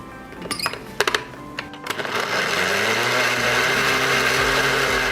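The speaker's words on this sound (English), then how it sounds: "Once the habaneros are added, go ahead and blend until smooth" Blender blending mango with habaneros for ice cream: a few loud knocks and clatters, then the motor starts and settles into a steady, loud, continuous whir that runs to the end.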